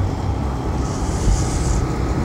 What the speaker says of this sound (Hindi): ये ट्रक आ रही है